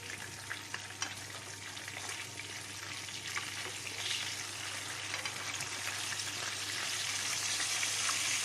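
Sea bream fillets fry skin side down in a hot pan, giving a steady, dense sizzle and crackle that holds for the whole stretch and swells slightly toward the end, with no talking.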